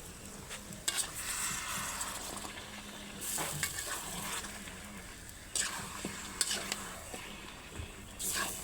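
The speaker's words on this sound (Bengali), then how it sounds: "পানি ছাড়া শুধু কষাইতেই হবে" Chicken sautéing with spices in a dry pan, no water added: a steady sizzle with bursts of stirring and scraping that swell and fade at intervals, close by and moderately loud.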